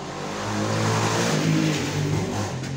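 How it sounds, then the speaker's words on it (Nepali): Motorbikes rev loudly and steadily nearby outside a cafe, a continuous engine drone with rising pitch swells, rattling the room. "खातेहरू कति जोरले चलाउँछन् यार बाइक यहाँ क्याफे थरथर कामिरहेछ"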